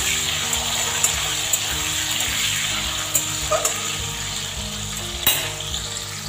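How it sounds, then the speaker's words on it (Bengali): Potatoes frying in oil after a spice tempering for a vegetarian cabbage curry, a steady close sizzle with a few sharp clicks of the spatula, no talk. "আলুগুলোকে ভালো করে ভেজে নেব।"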